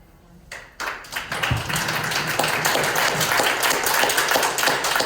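An audience at a community rent stabilization meeting in Montgomery County breaks into applause that swells in within the first second and then holds as dense, steady clapping, loud and close.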